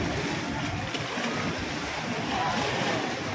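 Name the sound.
passing motorboats, river waves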